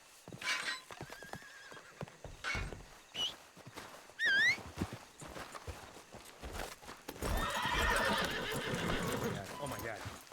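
A horse in a RedM roleplay game, a Western setting, whinnies loudly in a rising call, with other short neighs and a run of clip-clopping hooves around it. Voices talk in between.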